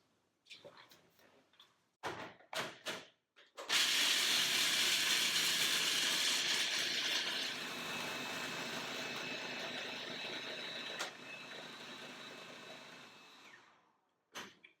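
A few short knocks and whirs, then a loud blender roars continuously for about ten seconds, grinding almonds into a coarse meal, before cutting off.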